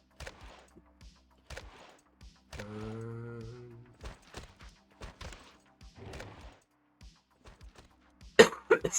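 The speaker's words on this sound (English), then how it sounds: "Still getting over this cough a little bit." A person coughs a few times in short, sharp bursts, with a gap of quiet between them, close to the microphone in an otherwise still room, with a brief throat-clearing sound and a louder bump at the end.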